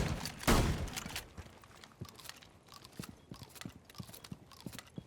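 Gunfire in a tactical shooter game shoots out hatches on a favela map, starting with one loud burst followed by a run of sharp, irregular cracks and impacts.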